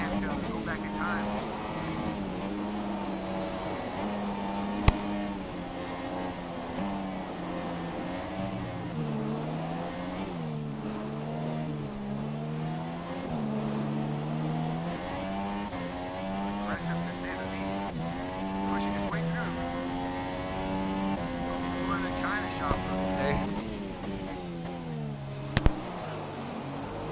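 Formula One racing car in the F1 2017 video game on a hot lap at the Chinese Grand Prix, its engine whining steadily with rising and falling pitch through gear changes, loud and continuous, with speech over it.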